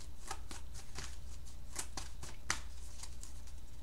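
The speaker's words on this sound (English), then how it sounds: "So we're going to go ahead and get some more cards here." Tarot cards being shuffled and drawn by hand, a series of quick crisp riffling flicks in an uneven rhythm, close and fairly quiet against a low steady hum.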